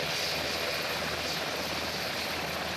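Three Army Black Hawk helicopters flying in a military dispersal drill, giving a steady, dense rotor and engine roar that holds without a break throughout.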